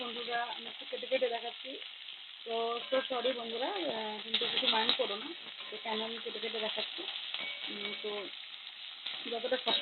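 Potatoes frying in oil with dried red chili and mustard seeds give a steady sizzle and crackle, with someone talking over it almost throughout.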